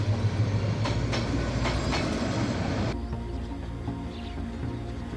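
Overloaded Drutojan Express train in Bangladesh rolling along the tracks with passengers crowded inside and on the cars, a loud steady rumble and rattle of wagons that drops to a quieter hum partway through.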